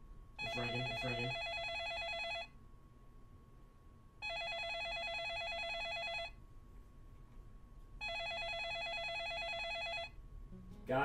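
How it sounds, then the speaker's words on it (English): A phone call rings out with three evenly spaced long ringing bursts and quiet pauses between them, mostly alone, with a brief voice at the start and end. "It's ringing."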